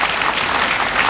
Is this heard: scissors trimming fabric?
no